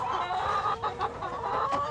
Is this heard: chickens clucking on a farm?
yes